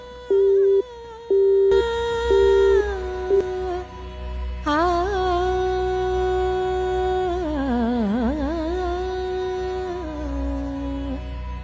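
Short pulsed telephone busy tones repeat at the start, then give way to sustained electronic tones that waver and bend in pitch.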